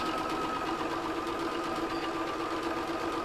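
A sewing machine stitches an Easter egg pouch along a seam, a steady fast mechanical whirr with rapid needle ticking, close and constant with no talk.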